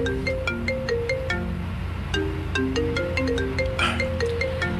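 A mobile phone rings for an incoming call during a radio drama, its melodic ringtone repeating a steady pattern of bright tones, loud and continuous over a faint background hum.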